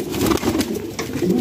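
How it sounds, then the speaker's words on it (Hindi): A Delhi wall pigeon coos steadily, low and throaty, in repeated rolling phrases, close and fairly loud with no voices over it. "ये एक और दिल्ली वाल कबूतर है"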